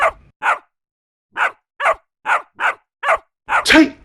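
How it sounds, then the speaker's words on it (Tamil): A dog barks loudly and repeatedly, about nine sharp barks in an uneven rhythm that close with a rougher, longer yelp, with no voices over them. "நாய் பாரு ரொம்ப நேரமா கொலைச்சிட்டு இருக்கு"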